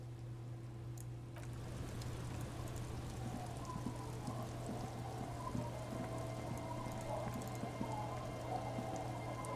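Shore waves in the video game Disco Elysium: a steady, soft wash of water that runs on unbroken beneath a low hum, with no talking.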